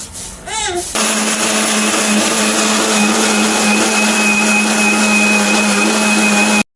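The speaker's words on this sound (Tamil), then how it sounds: "இதெல்லாம் போட்டு மிக்சியில் போட்டு 15 சுற்றிடலாம்." A kitchen mixer grinder blends chicken biryani ingredients, starting with a rising whine and then roaring loudly and steadily for several seconds before cutting off abruptly, close and alone.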